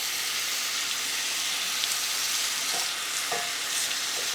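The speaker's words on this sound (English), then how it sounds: "We wanna get a nice sear on this." Seasoned meat searing in a pot, a loud, continuous hissing sizzle with a few faint pops, close and steady with no voices.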